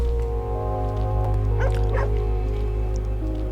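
A dog barks a couple of times in the video game Hyper Light Drifter, short yips rising over a loud, constant droning hum of game music and ambience, moderately close.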